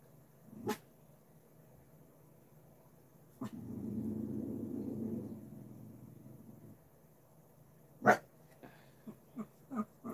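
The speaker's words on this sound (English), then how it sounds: "There will always be a rescue dog" A rescue dog makes scattered barks, yips and a longer whimpering whine in the background of an otherwise quiet indoor room, with a few sharp, close bursts near the end.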